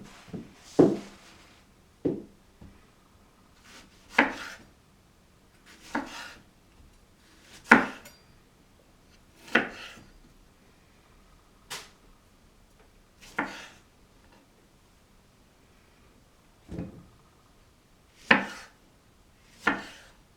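Almonds being chopped with a sharp knife on a board, about a dozen crisp separate knife strikes at an uneven, unhurried pace, close and clear over a quiet background, with no talking.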